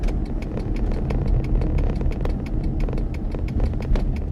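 A car's turn signal clicks too fast, a rapid, even run of sharp ticks at about four per second under a low engine idle hum inside the car.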